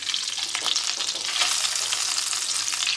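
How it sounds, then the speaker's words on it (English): Steak sizzling in butter in a hot pan, a steady close, loud frying hiss with crackling pops throughout, no talking. "put some butter in the pan, get that nice and going"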